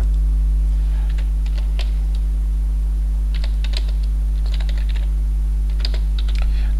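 Bursts of key clicks from typing on a computer keyboard while entering customer data into shop management software, in irregular clusters over a steady low electrical hum, with no talking.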